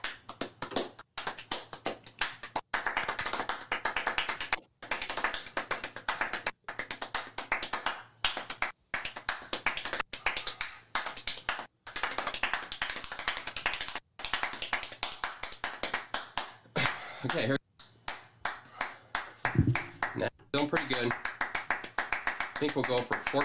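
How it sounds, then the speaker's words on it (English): Very rapid hand clapping in long continuous bursts, close and loud, as a demonstration of speed at about twelve claps per second, with brief pauses between runs and people talking over parts of it. "That's a rate of 12 claps per second for 60 seconds."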